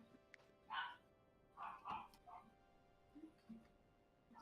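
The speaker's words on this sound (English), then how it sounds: "The dogs are barking." Dogs bark faintly in the distance, a few scattered yaps in two short clusters over a low steady background hum.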